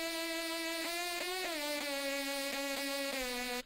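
A layered synth lead, built from two similar but not identical stacked layers, plays a bright buzzing sustained tone with rich harmonics, stepping through several short pitch changes and slides over a few seconds, loud and alone.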